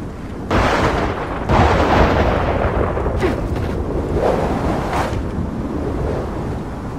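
Storm wind in the Gears of War 4 video game, a loud, steady broadband roar that surges in twice early on and then holds for several seconds with faint gusting swells, heard alone without voices.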